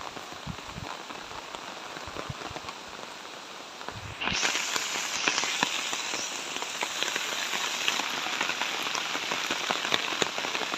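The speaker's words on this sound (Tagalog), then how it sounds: "Pasensya na kayo kasi po naulan yung viewing namin dito." Steady rain patters on the ground and vegetation of a farm lot with fruit trees, a constant dense hiss that grows louder partway through and carries on with no talk.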